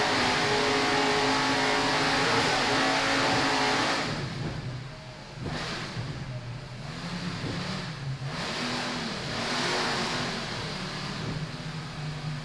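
A Drambuie race car circles an ice racing track, its engine a steady, loud roar that swells and dips as it accelerates and passes, with other engine noise blended in.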